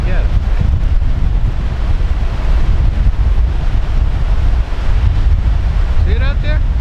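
Strong wind roars across a microphone on a rough-water Eleuthera coast, with breaking surf underneath. The buffeting is loud and continuous throughout, and a brief whistling sound rises near the end.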